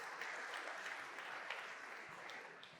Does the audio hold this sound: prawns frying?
no